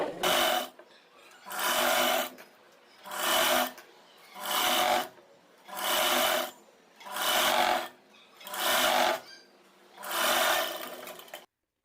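A sewing machine stitches a blouse strip in long straight seams, running in seven close, even bursts with short pauses between them.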